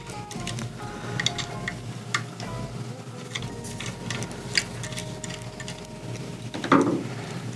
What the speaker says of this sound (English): We need to loosen these screws here. This does require a Phillips head screwdriver.